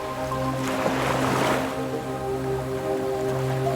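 Ocean waves crash on a beach, with one broad surging wash building and fading over a steady low rumble of surf, loud and close, no voices.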